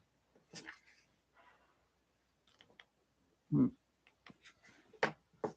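A dog gives a short, sharp bark among scattered small clicks and whimpering noises in a quiet room, the loudest burst standing alone near the middle.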